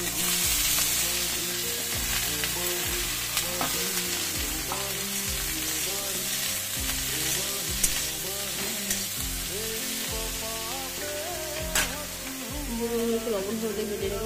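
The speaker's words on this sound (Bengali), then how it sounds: "এই বেগুনগুলো এবার ওই তেলে ছেড়ে দেবো।" Small cut eggplant pieces frying in oil tempered with nigella seeds and chili, a steady close sizzle with repeated stirring scrapes and occasional sharp pops, with a voice and faint background tones underneath.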